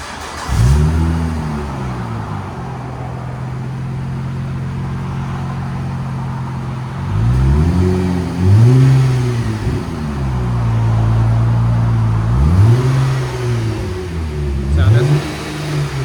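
A 1998 Plymouth Prowler with stock baffled exhaust tips is revved up close in about four rising and falling blips over a low steady idle rumble.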